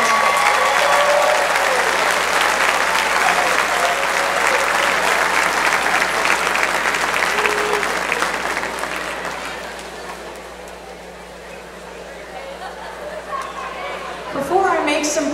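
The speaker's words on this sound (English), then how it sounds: "give them a round of applause for their hard work and accomplishments" At a high school decision day, an audience applauds graduating seniors with sustained loud clapping and crowd noise that slowly fades, then a voice speaks at the end.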